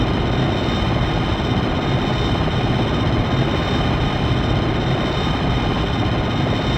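A Black Hawk helicopter flies in a video game, making a steady, dense rotor and engine drone that holds constant throughout, with no speech.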